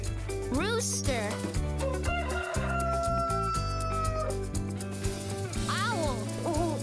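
A rooster crows in drawn-out calls, with clucking fowl, set against continuous upbeat music in a kids' animal-sounds lesson.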